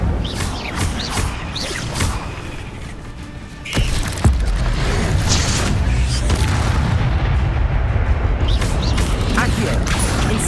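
A fiery Incendio spell blast in Hogwarts Legacy lands as a sudden boom partway through a fight with spiders, followed by a sustained roaring rumble over ongoing combat noise.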